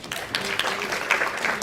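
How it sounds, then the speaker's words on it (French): Audience applause, a dense patter of many hands clapping at once, steady and moderately loud throughout. "Vous pouvez l'applaudir."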